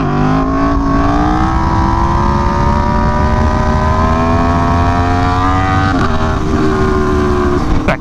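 An Aprilia Tuono V4 1100 Factory motorcycle engine revs loudly and close by, its pitch climbing steadily over several seconds, briefly dipping and recovering near the end, with no speech.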